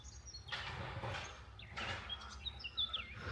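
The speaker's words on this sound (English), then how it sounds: "lots of birdsong" Birds chirp and tweet in short, scattered bursts over a steady outdoor hiss on a rural property of nearly two acres with trees and a kitchen garden near Ansião and Alvaiázere, Portugal, moderately close with a few brighter calls toward the end.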